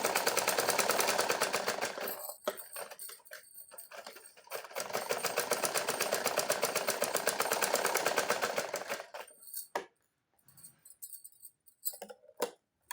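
A sewing machine stitches a simple blouse with a rapid, even mechanical chatter in long close runs, broken by brief stops, then ending in short start-stop bursts and clicks.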